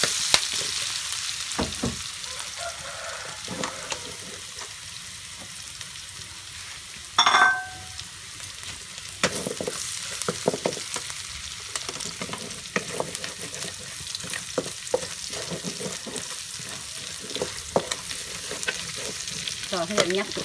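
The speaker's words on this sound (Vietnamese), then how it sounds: "Mình đổ hết vào đây nha. Mình xào lên." Steady sizzling of garlic, chili and shallots being stir-fried in a hot pan, with scraping and clinking of a utensil and a brief louder burst partway through.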